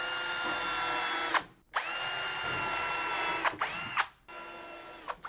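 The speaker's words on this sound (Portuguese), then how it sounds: "Então vou fazer alguns furos aqui e fixar também." A power drill bores holes through a thin 6 mm board while building L-shaped counters, whining loudly in three runs broken by short sharp stops and restarts.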